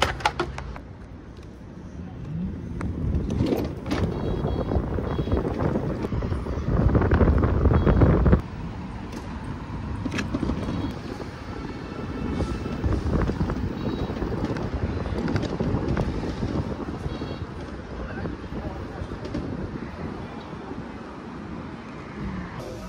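Steady, heavy wind rumble buffets the microphone while riding a motorbike in Yiwu, loud and continuous across the whole stretch, with engine and road noise blended underneath and a brief louder gust near the start.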